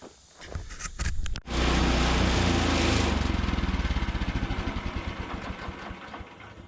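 A Woodland Mills HM126 sawmill's engine rattles through a few short bursts, then revs up loud and holds a steady throbbing drone as it cuts salvaged hard maple, easing off slightly toward the end.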